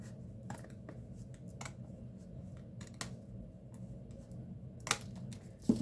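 Heavy-duty scissors snip through the edge of a Hobonichi Cousin Avec paper journal, giving a few sharp, close cuts spread across the clip over a low steady background hum, with a louder snip near the end.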